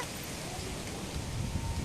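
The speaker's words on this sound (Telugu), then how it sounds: "వర్షం అయితే స్టార్ట్ అయిపోయింది కానీ వర్షం రాకూడదు" Rain beginning to fall outdoors as wind picks up, a steady soft hiss of light drops that grows a little louder toward the end, with no talking.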